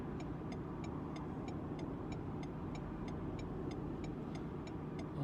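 Steady road traffic rumbles close by, with cars idling and creeping along in dense congestion, and a faint rapid ticking like an indicator running through the constant low drone.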